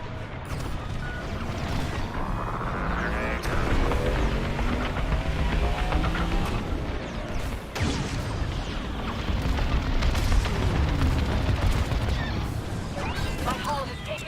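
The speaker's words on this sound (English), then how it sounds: "Evac ship destroyed." Evac ship blowing up during a Star Wars: Squadrons space dogfight, a loud sustained rumbling explosion with crashing bursts over dense game audio, booming low and continuous through the whole stretch.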